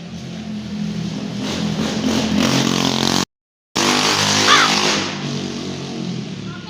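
A motorbike on a residential street during a street football game revs loudly and steadily with a harsh droning engine note, cutting out briefly before revving again, close and dominant throughout.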